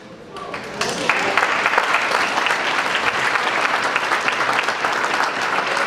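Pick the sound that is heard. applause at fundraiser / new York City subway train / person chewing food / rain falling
applause at fundraiser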